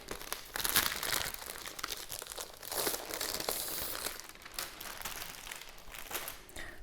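The plastic packaging of a photo book crinkles and crackles close by as it is handled and pulled open, with bursts of rustling and a faint tearing. The sound stays fairly quiet throughout.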